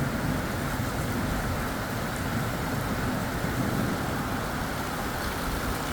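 Heavy rain pours steadily during a violent summer thunderstorm in the Drôme in France, a dense and constant wash of noise with no clear thunderclap standing out.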